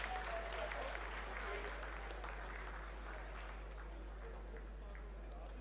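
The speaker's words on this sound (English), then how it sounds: "Lot of applause" Sustained applause fills ISRO mission control as Chandrayaan-3 enters its vertical descent phase of the lunar landing, a steady wash of many hands clapping with a faint voice underneath.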